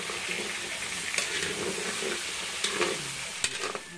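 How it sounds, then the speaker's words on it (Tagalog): Potatoes and carrots fry in a pan with a steady, close sizzle, punctuated by a few sharp clicks and scrapes from stirring. "I-prito sandali yung patatas at saka carrots."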